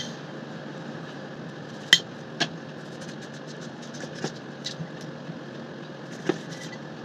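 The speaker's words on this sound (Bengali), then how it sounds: "প্রথমে লেবুটা কেটে নেব।" A gondhoraj lemon sliced with a knife: a few sharp, close knife clicks and taps, the loudest near the start, over a steady low background hum with no talking.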